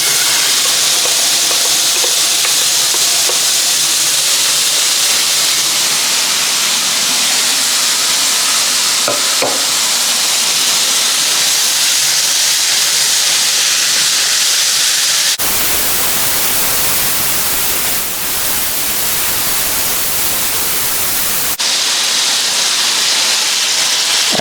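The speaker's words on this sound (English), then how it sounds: "As we cook this, we will be rendering the fat from the beef, and we'll cook the beef in its own fat." Marinated beef tapa fries in a preheated pan in its own rendered fat, giving a loud, constant sizzling hiss throughout, with a brief shift in tone partway through and no talking.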